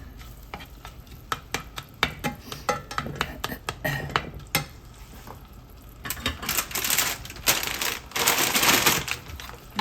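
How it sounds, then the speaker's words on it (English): Spices and onions stirred in a hot pan for a Gavar Phali (cluster bean) dish, with repeated scraping strokes of a spoon against the pan and a steady sizzle swelling louder toward the end, close and without talk. "Stir it up well so all of it gets incorporated nicely"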